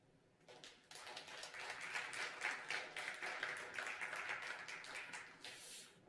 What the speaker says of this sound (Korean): 여러 나라에서 오신 파일코인 재단과 그 다음에 프로토콜 랩스 관계자분들께 감사의 박수 드리고 싶습니다.